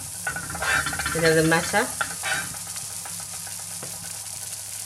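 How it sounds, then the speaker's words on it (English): Lamb keema parcels fry in butter on a hot chapati pan, a close, loud sizzle that swells with stirring and scraping, then settles into a steady crackle while a voice speaks briefly. "So I'm just gonna start frying now."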